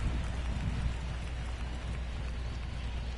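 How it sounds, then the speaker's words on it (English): Pelting rain during a baseball game in MLB The Show 22: dense, constant hiss of heavy rainfall with low rumble, loud and unbroken throughout, no voices. "trying to dry off in this pelting rain"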